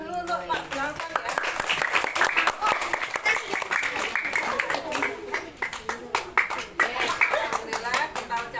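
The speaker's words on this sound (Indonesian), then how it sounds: "beri tepuk tangan dulu untuk Pak Blangkon ya" Audience clapping for a magician at an educational magic show at a Quranic school, steady dense applause throughout with voices and cheers mixed in.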